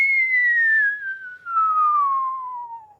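A person whistles one long, clear, steadily descending note, loud and close, with a short break midway before the pitch keeps sliding down and fades out.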